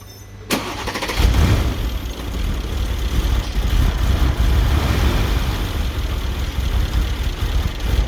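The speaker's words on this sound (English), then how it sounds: "can you try to accelerate a little bit, just to idle, let us say," A 2012 Mercedes CLS 63 with 137k km, its low-pressure fuel pump not delivering fuel, cranks briefly, catches and then runs loud and close with a steady rumbling engine note for several seconds.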